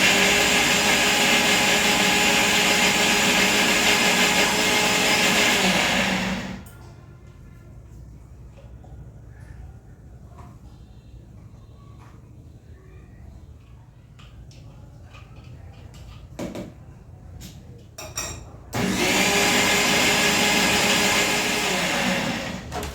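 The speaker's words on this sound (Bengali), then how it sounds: "চলেন এদিকে মসলাগুলো ব্লেন্ড করে নেই।" An electric blender grinds spices in a home kitchen in two loud, close bursts, the first about six seconds long and the second near the end, with a quiet stretch of faint clatter between them.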